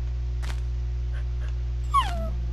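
A puppy gives a single short, high whimper near the end over a steady low hum, preceded by a few faint soft sounds.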